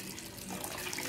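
Hot water is poured over flattened rice to wash it, giving a steady close-up rush of running, splashing water that lasts the whole short moment with no voices.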